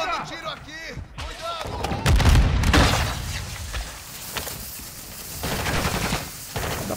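Video game gunfire in DMZ mode: bursts of rapid shots and heavy impacts crackle through the first seconds, then lighter scattered fire continues while players talk excitedly over it.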